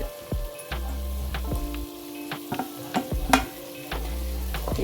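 Chicken with small chopped tomatoes frying in a pan, a continuous close sizzle broken by repeated sharp scrapes and clinks of a stirring spoon against the pan.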